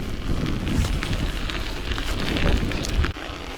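Strong wind buffeting the microphone during a bike ride along the Oskol reservoir, a steady loud roaring rumble with gusty rushing noise throughout and no speech.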